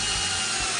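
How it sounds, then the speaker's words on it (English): A power tool drives a wood screw into a wall while a carrier rail is installed, a steady close whirring drone that runs unbroken through the short moment. "we're going to take our wood screw and we're going to tighten it into the wall"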